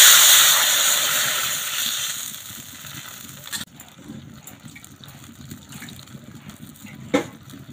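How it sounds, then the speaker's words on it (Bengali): Tamarind water is poured into a hot pan of oil for a sour Bengali fish curry, giving a loud gushing sizzle that slowly fades into quieter bubbling with a few small pops. "জলটা দিয়ে দেবো।"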